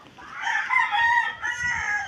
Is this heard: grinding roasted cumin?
no